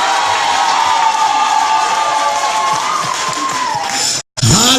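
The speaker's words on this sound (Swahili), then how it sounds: "Ningesikia mkipiga makofi mengi." A church congregation fills the room with loud sustained cheering and shouting over scattered clapping, a dense crowd roar close at hand that breaks off briefly near the end.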